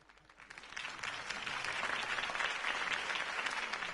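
Crowd applause in a PS4 Batman game builds from quiet into a steady, dense roar of clapping that holds for several seconds, alone with no voices over it.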